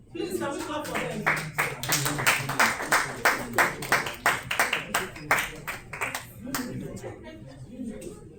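Conference audience claps at a tech summit, a dense burst of hand claps that swells and then thins out into a few scattered claps over about eight seconds, heard close and at moderate volume.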